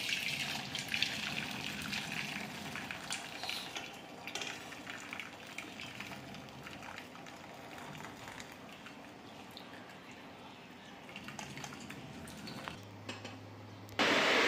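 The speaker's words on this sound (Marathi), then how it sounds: "ही भाजी आपण आता गाळून घेत आहोत।" Boiled takla greens strained in a kitchen sink, a steady broadband wash of draining water running continuously for the whole stretch, with faint clinks of a pot and utensils near the end.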